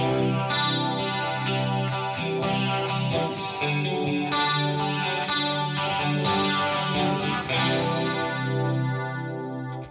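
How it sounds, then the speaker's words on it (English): Electric guitar run through an octave pedal set for a lush 80s-style chorus, playing a continuous strummed and picked passage with shimmering, doubled tones; loud, close and steady, with no talking. "And you get that really nice 80s chorus sound."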